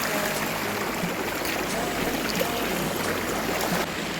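Mountain river water in Bakung, Patikul, running in a steady broadband rush, constant and fairly loud throughout with no breaks or voices.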